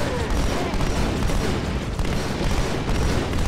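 Halo 2 Anniversary gameplay during a fight around a Scarab: dense, continuous roaring explosions and gunfire form a loud, unbroken wall of battle noise with no quiet gaps.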